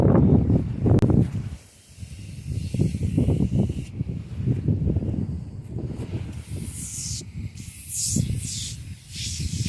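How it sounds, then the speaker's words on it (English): An aerosol degreaser can hisses in bursts, a steady airy spray close by onto a Ford 4000 tractor engine, with low rustling and handling noises underneath. "I'm just going to spray it on the motor here and try to degrease it."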